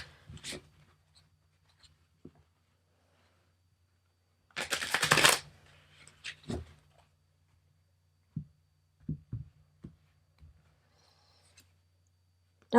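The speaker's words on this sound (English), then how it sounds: "One more riffle shuffle." Tarot cards are riffle shuffled, giving one dense, crisp burst of fluttering card snaps, followed by several light taps and soft clacks as the deck is squared in a quiet room.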